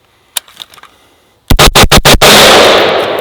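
Five rapid, very loud close-range shots ring out from a SIG Sauer MCX Spear LT rifle on an outdoor range. Quiet handling clicks come first, and a loud roar hangs on after the last shot.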